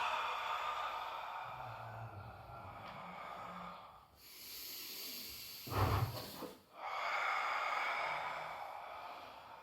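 A slow, soft exhale during a Pilates roll-down, a long breathy hiss in a quiet room followed by a shorter, sharper puff of breath.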